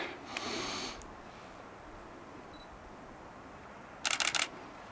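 Two bursts of a camera shutter on an outdoor hike, a short click near the start and a quick multi-click burst toward the end, fairly close, with quiet breathing-like noise and no talk between.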